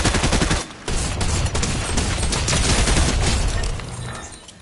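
Rapid automatic gunfire in the Fortnite video game, a dense continuous burst of shots with a brief gap near the start, loud and close, fading out at the end.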